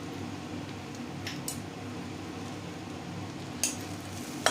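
Mashed potatoes for aloo chokha frying in a pan, producing a quiet, continuous sizzle broken by a few brief scraping clicks from stirring, with no talking.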